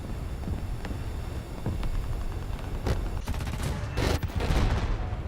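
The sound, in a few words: aircraft guns firing at ground targets in War Thunder video game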